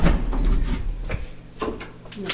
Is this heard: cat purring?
no